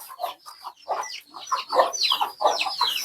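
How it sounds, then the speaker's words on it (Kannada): A brooding hen in a poultry shed clucks in a close, repeated series of short, rising calls of varied pitch with no talk over them. "ಇಲ್ಲೊಂದು ಕೋಳಿ ಕಾವಿ ಕೂತಿದೆ ಆಲ್ರೆಡಿ ಕಾವಿ ಕೂತಿರೋ ಕೋಳಿ ಇದೆ"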